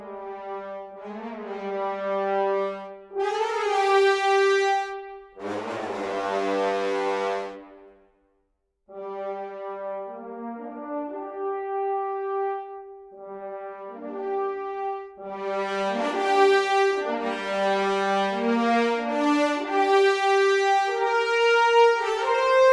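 An orchestral brass section plays a slow legato melody from the Junkie XL Brass sample library, with smooth sustained notes and swelling chords, a short silent gap midway, and fuller harmonies building toward the end.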